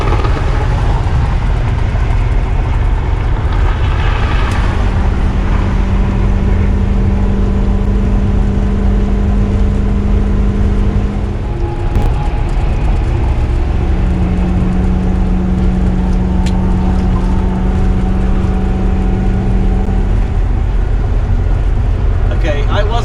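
Car cruising north on Interstate 95 toward Savannah, Georgia, a steady loud road and engine drone with tire rumble that runs unbroken, with a brief dip partway through.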